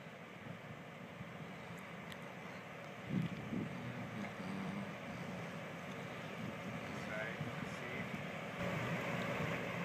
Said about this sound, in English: So they're raising this boat slowly out of the water.